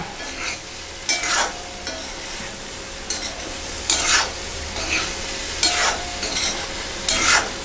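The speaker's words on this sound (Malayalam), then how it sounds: "നന്നായി ഒന്ന് ഇളക്കിയ ശേഷം നമുക്കിത് വാങ്ങി വയ്ക്കാം" Ripe banana cooked with ghee and grated coconut is stirred in a pan. Repeated spoon scrapes and soft sizzling come every second or so, close and fairly loud, with no talk.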